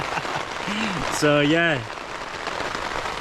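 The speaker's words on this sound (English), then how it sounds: "this is definitely heavy rain" Heavy rain pours steadily at night on a wild camp, a loud continuous broadband hiss of drops striking a tent, with someone talking briefly over it.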